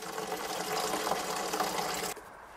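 Water gushes steadily from a tap into a watering can being filled with 9.5 liters in a vegetable garden, a loud, continuous rushing splash that cuts off abruptly near the end.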